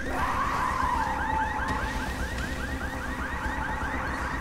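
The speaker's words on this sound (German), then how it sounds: "Machen wir die Alarmanlage aus." A car alarm in the zombie game Dying Light wails in a fast, repeating warble, loud and continuous throughout under a steady rumbling ambience, with no voices.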